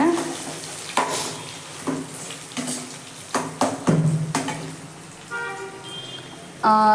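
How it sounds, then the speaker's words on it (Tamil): Broken eggs sautéed in a pan for egg fried rice, with a soft sizzle under repeated sharp spatula scrapes and taps against the pan, and a couple of brief tonal beeps near the end. "இந்த மாதிரி உடச்சிட்டு கொஞ்சம் வதக்கிக்கோங்க"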